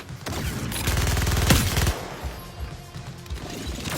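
Gunfire from shooting enemies in the Suicide Squad video game, a dense burst of rapid shots and impacts with loud crashes, fading into scattered hits and game noise.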